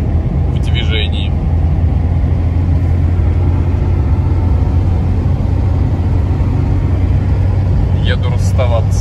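A 1980 VAZ 2101 car drives on a highway, its engine giving a steady, loud low rumble and drone that continues without a break.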